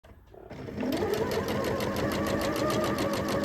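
A sewing machine stitches a dart on a camisole, starting up after a brief pause and then running in a fast, even, rhythmic whir with regular needle ticks, close and steady.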